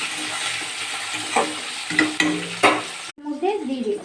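Onion, tomato, garlic, green chilli, carom and cumin frying in oil with peanuts, giving a crackling sizzle with a few spatula scrapes and stirring knocks, close up, then dropping to quieter bubbling.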